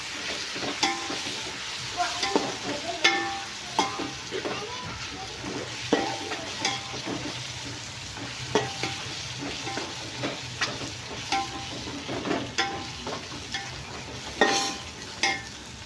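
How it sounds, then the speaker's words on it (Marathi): Tomatoes with mint and coriander sauté in a pan, a steady close sizzle broken by repeated stirring scrapes and clinks of a utensil, with faint voices in the background. "परतून घेऊया."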